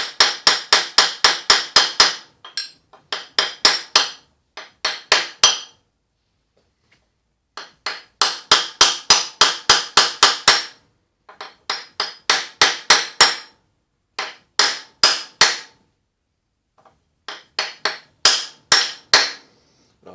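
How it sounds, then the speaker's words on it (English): Steel on steel hammering drives a cam bearing into a 1979 Harley-Davidson XLH1000 Ironhead engine: rapid bursts of sharp metallic blows, close and loud, separated by brief pauses. "Steel on steel hammering."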